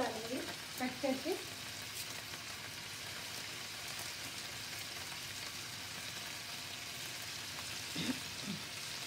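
Ginger garlic paste frying in a pan at home, a continuous soft sizzle like light rain that stays fairly quiet, with a faint background voice near the start and end.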